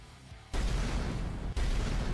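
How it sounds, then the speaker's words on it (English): A game-asset explosion sound effect: a quiet low rumble, then a sudden loud broadband blast that roars on, briefly dips, and bursts again at full strength with heavy low-end rumble. "Yeah, I need like explosion."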